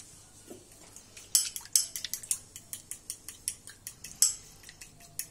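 A spoon clinks and scrapes against a bowl while stirring a honey hair-mask mixture, a quick, irregular series of small taps, close and fairly quiet, with no talking.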